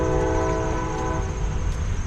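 A passing train sounds a loud, sustained horn close by, the tone held steady over the rumble of rolling rail cars.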